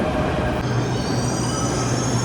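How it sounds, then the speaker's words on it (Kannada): A Delhi metro train arriving at a station rumbles steadily with a low hum and faint high whine from the wheels, loud and continuous throughout, with no talking. "ಸೊ ಬಂತು ಅನ್ಸುತ್ತೆ ಮೆಟ್ರೋ"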